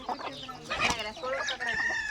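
Tall-legged, long-necked Talanga hens on a farm cluck in short, close bursts of clucks and squawks over a couple of seconds.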